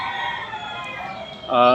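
A young fighting rooster crows at close range, a loud harmonic call rising sharply near the end over steady background noise.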